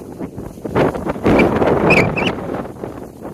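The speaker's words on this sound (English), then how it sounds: "Oh, it's a bit windy." Gusty wind buffets an outdoor microphone on a lakeside nature walk, rumbling steadily and swelling loud for a moment in the middle, with no voices.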